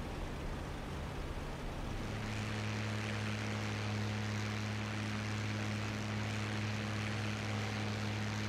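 A P-51 Mustang's piston engine in the combat flight game IL-2 Great Battles roars as a loud, steady propeller drone that continues without a break.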